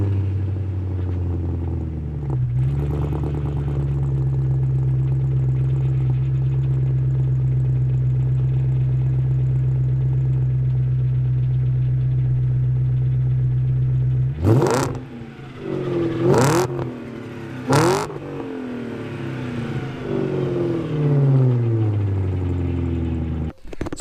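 A 2000 BMW 740i E38 with a straight-piped exhaust starts up close by, settles into a loud, steady idle, then gives three sharp revs followed by a few lighter blips.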